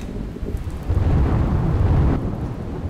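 A heavy downpour in Gir Somnath roars steadily and loudly, with a deep thunder-like rumble swelling through the middle.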